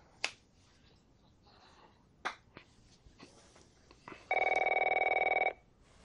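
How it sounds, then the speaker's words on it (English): An old-style telephone bell rings in The Last of Us Part 1, a bright rapid trill lasting about a second, following a few sharp clicks and soft game sounds. "I need to get your daddy on the phone."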